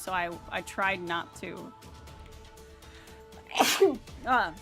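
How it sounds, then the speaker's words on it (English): One sudden sneeze bursts out close and loud in a quiet room, after a woman's soft speech and before she talks again. "The sneeze came out of nowhere."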